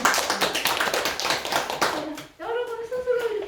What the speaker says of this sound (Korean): 여러분들 다 박수 쳐줘야 될 것 같아요